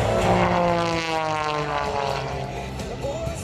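An MXS aerobatic propeller airplane at an air show, its engine roaring loud and close with a sweeping, shifting drone as power is pushed forward, then easing off slightly.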